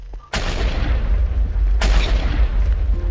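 Explosions and gunfire in the game Minecraft: two heavy booming blasts about a second and a half apart, each leaving a long rumbling, crackling tail that fills the whole stretch loudly.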